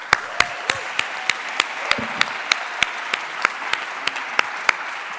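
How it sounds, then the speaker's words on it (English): A crowd at a startup pitch event in Madrid applauds steadily, with a dense wash of clapping punctuated by regularly spaced sharp, loud claps close by, and no talking. "So let's give them a huge round of applause."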